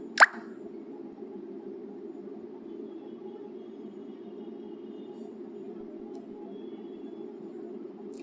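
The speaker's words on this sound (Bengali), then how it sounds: "এবার এর মধ্যে আমি এই টক দইটুকু ফেটিয়ে নিয়ে দিয়ে দেব।" Whisked sour yogurt goes into a cooking pan with one soft, wet plop at the start, followed by a steady low simmering hum that continues alone.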